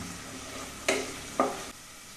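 Garlic and ginger frying on low flame for a cauliflower curry, a soft steady sizzle with two sharp stirring scrapes, close but quiet.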